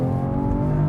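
A BMW X3 M40i SUV in sport mode revs its engine after a downshift, a brief, dense, steady growl heard up close with no talking.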